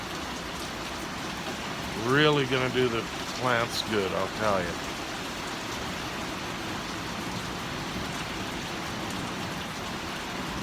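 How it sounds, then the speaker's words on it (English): Steady, even hiss of a mild rain storm pouring down continuously, with someone speaking briefly over it near the start. "But it's beautiful, beautiful rain, beautiful."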